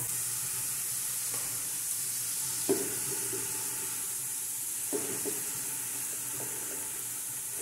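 Sarapatel dropped into a pan with chopped onion: a continuous steady sizzle of frying, broken by a few soft stirring knocks, moderately quiet and with no speech.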